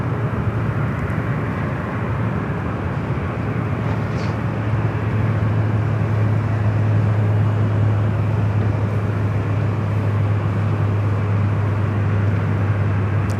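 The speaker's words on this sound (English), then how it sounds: "There's an Air Premia Dreamliner. They're in the alleyway between Terminal 3 and 4." Air Premia Boeing 787-9 Dreamliner taxiing in the alleyway between Terminals 3 and 4 at LAX: a steady, loud low jet engine drone with a constant hum, unbroken and without talk.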